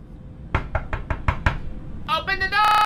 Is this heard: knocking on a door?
yes